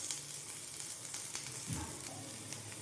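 Curry leaves frying in a pan for egg fried rice, a faint, even hiss of hot oil with a single soft stir midway, low and unbroken.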